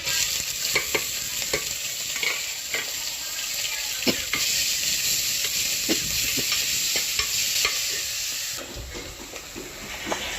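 Crushed curry leaves, ginger and onion fry in hot oil, giving a steady loud sizzle throughout with repeated scraping stir strokes, alone with no talk.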